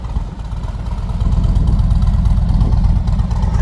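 A Harley-Davidson Tri Glide trike idles with S&S slash cut slip-on mufflers, dB killer baffles still fitted, giving a deep continuous rumble that swells slightly louder after the first second and holds steady, close up with no talk.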